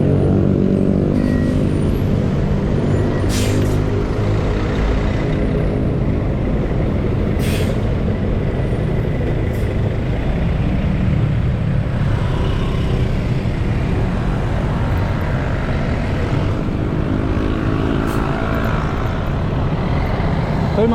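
Busy road traffic with trucks and buses passes continuously and loudly, with short hissing bursts from air brakes cutting through the steady rumble.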